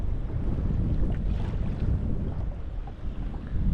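Steady, heavy wind roars and buffets the microphone out on open sea while kayak fishing in Plymouth Sound, continuous and loud with no voices.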